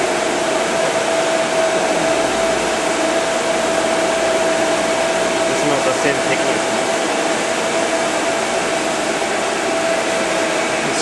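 A GEM GBM3143 glass bevelling machine grinds a one-inch bevel on a glass sheet, a steady, loud, broadband wash of wheel and water noise with a thin constant tone running through it, unbroken throughout.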